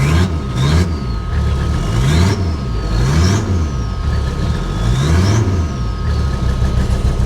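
Engine of an abandoned Toyota Supra being given gas, revving up and down in repeated swells, loud and close, with its pitch rising and falling over a rough idle.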